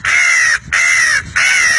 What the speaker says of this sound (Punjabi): ਕਾਂ ਕਾਂ ਕਰਦੇ ਆ